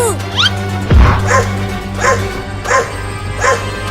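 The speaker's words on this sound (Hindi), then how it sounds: "तब ये कुत्ता हमें नहीं काट पाएगा" A cartoon dog in a comic chase barks and yips repeatedly in a quick, regular series of loud, close barks, with a heavy thump early on and a steady hum underneath.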